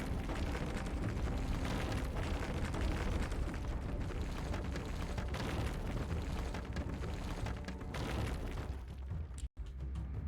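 Walls crumble in the video game The Last Spell as a dense, loud, continuous rumbling crash. It holds steady before cutting off abruptly near the end.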